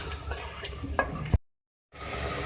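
Beef is stirred and cooked in a pot, giving close scraping and a light sizzle that is broken by a short gap of silence before the sizzle resumes.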